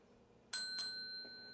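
A small bell rung twice in quick succession, each bright ding ringing on with a sustained metallic tone, followed by a faint third tap in an otherwise quiet room.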